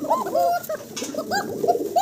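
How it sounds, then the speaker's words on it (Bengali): A female fancy pigeon coos in close, repeated throaty rolls, several short bursts following one another in quick succession with no other sounds around them. "দেখেন কি চমৎকার ডাকতেছে মাদি, এই হলো মাদির ডাক"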